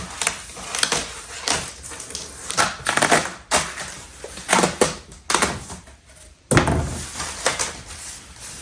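Tape pulled off a roll in repeated rough, ripping bursts while a gun box is built with a dry hatch lid, several loud close pulls separated by short pauses.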